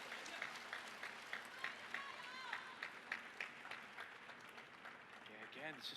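Spectators clap and cheer at a table tennis match in the women's singles round of 16 at the ITTF World Cup in Macao, a steady patter of applause with rhythmic claps, and commentators talking over it.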